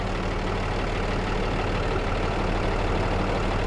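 A truck's engine idles steadily in the middle distance while its transmission fluid is checked, a low continuous rumble with a constant hum and no voices.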